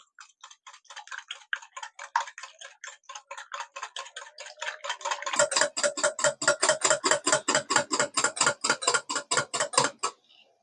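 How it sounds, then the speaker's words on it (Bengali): A whisk beats a batter mixture in a bowl with steady, rhythmic scraping strokes that grow louder and fuller halfway through, with no talking. "এই পর্যায়ে হুইক্সের সাহায্যে ভালো করে ফেটিয়ে নিতে হবে"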